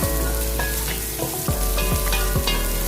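Garlic and ginger sautéing in hot cooking oil for chicken curry, a loud steady sizzle and crackle with a few stirring scrapes of the utensil, close and continuous with no voice.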